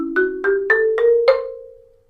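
A pitched percussion instrument plays an octatonic scale, six struck notes rising in quick, even succession, each ringing on with sustain before fading out alone.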